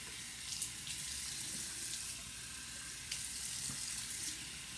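Running tap water pours steadily into a sink while someone washes their face, a soft continuous rush with a few faint splashes, quiet and close with no talking.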